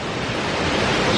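Shifen Waterfalls in Taiwan, a dense, continuous roar of falling water filling the scene at close range, steady and broadband with no voices.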